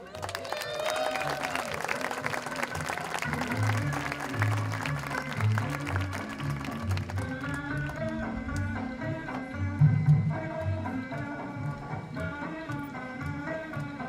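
Audience clapping welcomes a boys' alumni band on a showboat stage, mixed with sustained band or organ music tones; crowd noise and a brief swell near the end, moderately loud.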